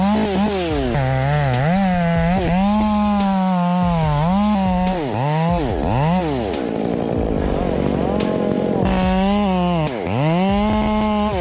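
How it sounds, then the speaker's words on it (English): A loud chainsaw cuts trees up close, its engine revving and bogging down repeatedly in sweeping pitch swings, dropping briefly to idle before snarling back to full throttle. "The sound of a chainsaw is so satisfying."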